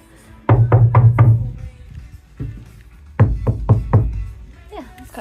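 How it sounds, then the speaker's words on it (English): Knuckles rap quick groups of three or four knocks on the insulated ceiling of a Ford Transit van, close and dull, with a pause between groups and people talking softly around them. "Do a knock test?"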